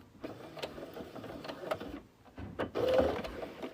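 A sewing machine back stitches a seam on a boxy bag, giving short bursts of rapid mechanical whirring with brief pauses, close and fairly loud, and no voices.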